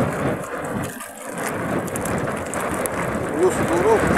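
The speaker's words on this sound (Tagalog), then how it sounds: "Lakas ang hangin guys" Strong wind buffets the microphone aboard a small fishing boat at sea, a steady roaring rumble that dips briefly and returns, with someone talking over it.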